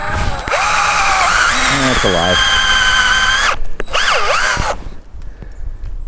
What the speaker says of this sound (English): We'll try drilling him and see if it comes out.